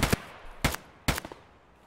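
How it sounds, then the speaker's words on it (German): Three sharp gunshots in the video game Escape from Tarkov, evenly spaced and close, each with a short ringing tail. "die Schüsse kamen ziemlich, ziemlich aus der Nähe"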